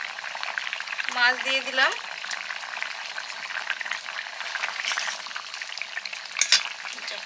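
A homemade fish curry broth with pond-caught fish bubbles and sizzles steadily in the pot. A person talks over the cooking, and there are brief stirring scrapes, with the simmering continuing throughout.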